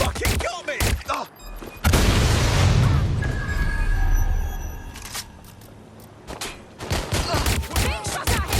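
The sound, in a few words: gunfire and explosions in the video game Watch Dogs Legion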